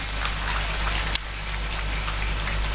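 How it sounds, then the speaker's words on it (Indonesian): Audience applause at a pengajian, an Islamic religious gathering held for an Islamic boarding school, forms a dense, steady patter of many hands, fairly even and distant-sounding, with one sharp clap standing out. "Tepuk tangan dulu dong buat pesantren."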